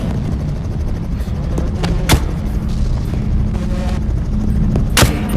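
Gunshots in the VR video game Bonelab, two sharp booming reports a few seconds apart over a steady low rumbling background.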